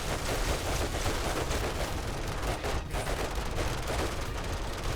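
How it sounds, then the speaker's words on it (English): A Desert Vulture pistol fires at zombies in 7 Days to Die, set in a prison during a zombie apocalypse. The loud shots come in a dense, continuous volley over roaring battle noise, with a short lull near the middle. "blasted the zombies with my new desert vulture, which was rather strong"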